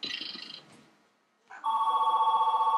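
A telephone rings in a home cabin at Christmas, a loud steady electronic trill starting after a short pause, preceded by a brief higher chirp and faint background noise.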